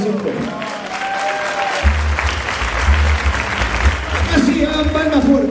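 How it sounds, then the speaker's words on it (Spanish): Applause follows a tango performance of Aníbal Troilo's La Trampera: crowd clapping rises over a sung voice and a deep musical accompaniment that enters partway through, with voices mixed in. "Aplauso fuerte, La Trampera de Aníbal Troilo."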